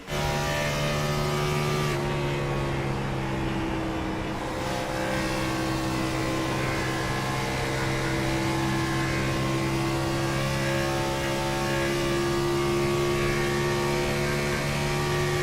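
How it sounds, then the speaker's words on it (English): An AMR Gen 6 Cup Series race car engine at Homestead, heard from onboard, holds a loud, steady high-revving drone throughout with a brief dip near the start. "see and listen to what his engine's going to be doing"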